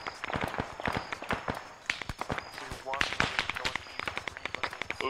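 Scattered gunshots in an ArmA 3 military firefight, sharp cracks popping at irregular intervals with some sounding distant, mixed with footsteps and voices talking over the radio-style chatter.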